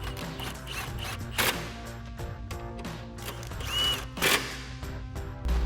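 A power tool whirs in short runs, tightening 13mm bolts on the front cradle of a 2015–2024 Mustang during a lowering spring install, with sharp metallic clanks between runs; close, with no talking.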